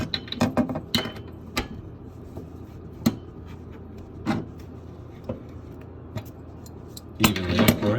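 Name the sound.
tightening a tap handle display with a large crescent wrench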